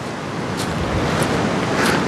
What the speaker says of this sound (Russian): здесь очень эффектные брызги. То есть даже вот при относительно не сильном шторме брызги очень эффектные.